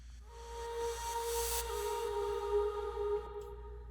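A rising synthetic sweep effect in a dance house remix, a steady hissing whoosh with sustained tonal layers over a low bass drone, building and then cutting off near the end.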